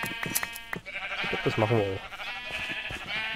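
Sheep bleat in the Minecraft video game, a short wavering cry in the middle under steady German-speaking talk and game background sounds.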